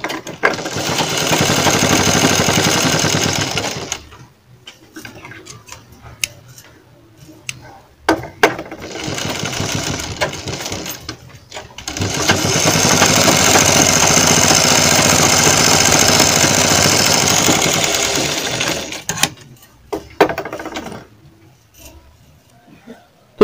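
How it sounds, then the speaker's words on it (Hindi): An electric sewing machine stitches kurti fabric in several bursts of fast, even whirring and clattering, separated by short pauses, heard close up with no speech. "और हमें यहाँ पर भी सिलाई लगा के इसको जमा लेना है।"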